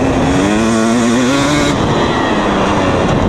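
A 2020 KTM 250 SX dirt bike riding in third gear, its two-stroke engine droning loud and close with a rising pitch that levels off as the throttle holds steady.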